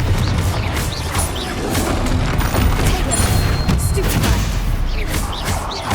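Incendio and Fringo spells cast in the game Hogwarts Legacy, giving dense continuous rumbling booms and crackling impacts with a shouted voice mixed in.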